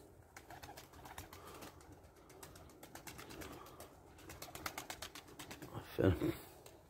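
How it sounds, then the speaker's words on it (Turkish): Pigeons in a backyard loft, with soft cooing and fluttery bird sounds at low level, someone speaking Turkish over them, and a brief louder burst of wingbeats near the end. "Bunlar hep gidecek kuşlar arkadaşlar."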